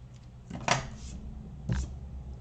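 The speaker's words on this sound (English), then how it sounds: "These aren't the best scissors" Scissors trim cardstock for a handmade card in two short, quiet snips spaced about a second apart, with nothing else in the room.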